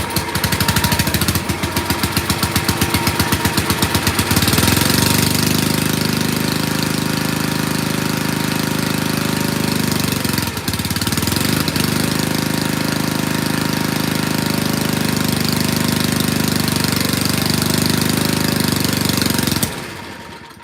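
An old motor on an abandoned farm-built machine runs steadily at close range, a loud, continuous rough drone with a knocking undertone that holds for about twenty seconds before cutting off.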